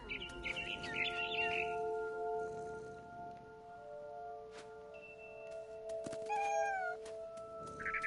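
A cat meows with a synthetic, game-like tone in the video game What Remains of Edith Finch, amid bird chirps and tweets, followed by a rising electronic chirp near the end.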